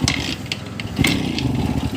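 An old CZ 350 motorcycle engine, unused for nearly 20 years, sputters and catches, with uneven popping bursts and clattering that briefly pick up into a rough idle.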